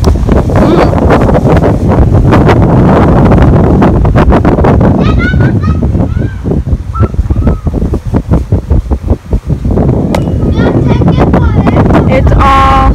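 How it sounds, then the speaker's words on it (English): Strong wind buffets the microphone in loud, constant roaring gusts, with a voice speaking briefly partway through and bird calls faintly audible. "It's really windy and sunny today."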